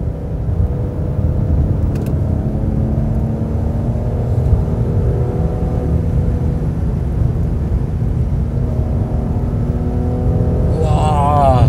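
A 2021 Mercedes-AMG GLC43 Coupe's V6 engine revs hard from inside the cabin, a loud sustained droning rumble that builds steadily, with a voice talking over it.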